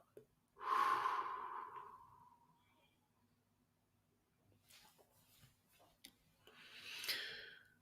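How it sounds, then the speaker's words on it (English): Slow guided breathing: a long, close inhale, a quiet pause while the breath is held, then a soft airy exhale near the end, with no talking. "Let's breathe in, hold, breathe out."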